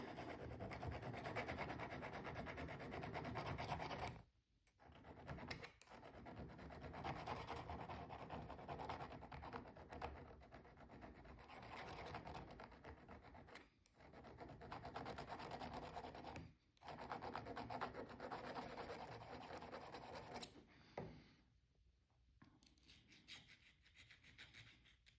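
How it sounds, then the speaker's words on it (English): A metal file sharpening the cutting edge of fret nippers, close and steady rasping strokes that run continuously with a few brief pauses between passes. "See if I can get a little bit sharper edge on my nippers here."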